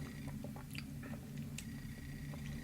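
Close, wet chewing of a canned black olive, soft squishy bites repeating in an uneven rhythm over a steady low background hum, with no talking.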